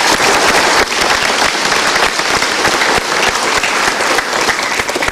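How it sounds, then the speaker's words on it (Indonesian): A large audience claps steadily and loudly, with dense, continuous applause that holds its strength throughout and briefly dips once early on. "Kita berikan tepuk tangan yuk."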